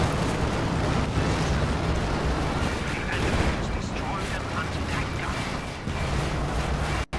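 A T-70 tank gun fires amid a busy tank battle in a World War II video game, with heavy booms and crackling gunfire merging into a loud, continuous roar for several seconds before a brief sharp dropout near the end.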